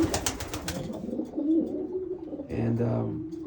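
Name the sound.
racing pigeons cooing in loft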